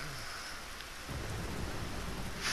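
Thunder rumbles through steady rainfall in a stormy scene from the video game The Last of Us, a broad low roll that swells midway and stays loud over the constant wash of rain.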